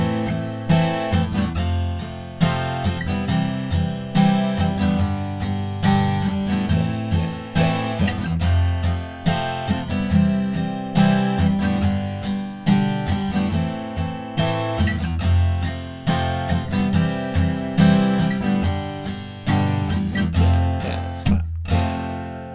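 Acoustic guitar strumming the chord progression of the bridge of a song in a steady rhythmic pattern, played alone and close with no talking.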